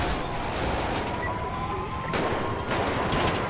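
Dense gunfire from a shootout with police in GTA V, rapid overlapping shots and bursts forming a loud continuous barrage that swells again near the end, without speech.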